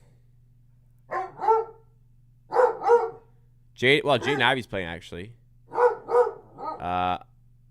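A dog barks and yelps in short bursts at home during a live Raptors vs Bulls basketball watch-along, mixed in with someone talking over it.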